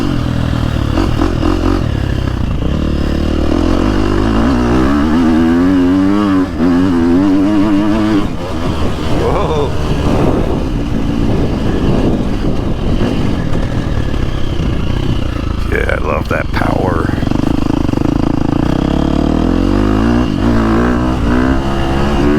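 Brand-new 2024 Husqvarna FC350 four-stroke dirt bike engine revs hard while riding, loud and close, with rising and falling throttle sweeps and gear changes over rough clatter.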